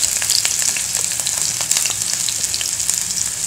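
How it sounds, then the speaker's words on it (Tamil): Onion, cumin and fennel seeds frying in hot oil for a South Indian tomato soup, giving a steady close sizzle with bright crackling pops throughout, no voices. "எண்ணெய் ஊற்றியாச்சு, எண்ணெய் காஞ்சிருச்சு. அதில் நம்ம ஜீரகமும் சோம்பும் போட்டு அது பொரிஞ்சது நம்ம வெங்காயம் போட்டிருக்கோம்"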